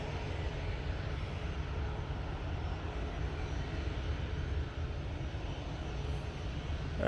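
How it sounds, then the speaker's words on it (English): An Emirates Airbus A380 on short final into Manchester Airport gives a continuous, fairly loud jet-engine drone and rumble, heard alone and steady. "Emirates A380 now in short final"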